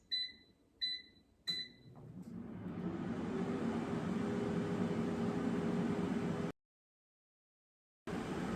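Frozen White Castle burgers cooking in an air fryer set to 390°F: a few short beeps as it's programmed, then a steady, close fan whir and hiss that cuts out briefly before resuming.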